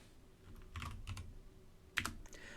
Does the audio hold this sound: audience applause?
no